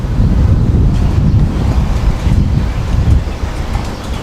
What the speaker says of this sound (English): More gusts blowing across the ground,